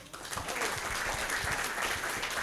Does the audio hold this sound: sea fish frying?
no